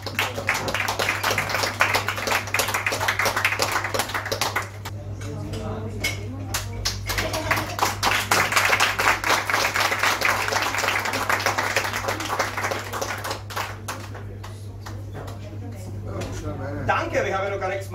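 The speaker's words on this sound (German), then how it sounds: "Das ist ein Applaus für Ingo Frenzel." Audience applause for a filmmaker at a short-film evening, a broad crowd clapping that runs throughout under a presenter's amplified voice speaking over it.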